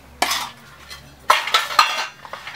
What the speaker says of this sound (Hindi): मैं बर्तन मांजने जा रही हूँ